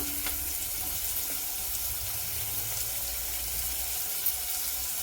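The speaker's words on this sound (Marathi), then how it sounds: "त्याच्यामध्ये आता मी कांदा घालते कांदा बरा चांगला परतून घ्यायचा" Onion sautéing in hot oil with mustard seeds, a dense, steady sizzle that holds level throughout at close range with no other sounds.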